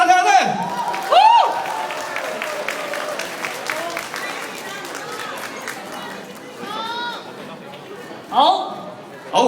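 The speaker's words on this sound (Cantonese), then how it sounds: "有咁多位同事，俾掌聲我聽下先。" Staff at a radio station's Lunar New Year gathering clap and chatter in a crowd, bursts of applause rising and fading between stretches of loud talk nearby.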